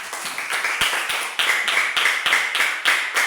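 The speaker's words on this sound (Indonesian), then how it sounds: "oleh tepuk tangan buat Ayo." A classroom of pupils applauds a classmate, steady rapid clapping from many hands filling the room, fairly loud, with no speech over it.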